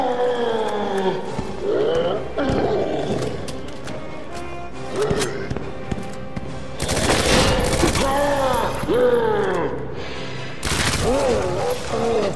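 Gunfire in Resident Evil 2 Remake: scattered loud shots and blasts mixed with growling creature sounds and tense game audio, with a few heavy bursts toward the end.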